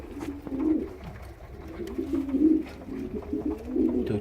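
Homing pigeons in a loft during breeding season, with two chicks: soft, low, repeated cooing in close, steady phrases against a quiet background.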